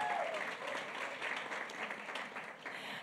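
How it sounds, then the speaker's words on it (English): Audience at a women's business event in Cape Town applauding the event's platinum sponsor, a short burst of dense clapping at moderate distance. "So huge round of applause to Standard Bank,"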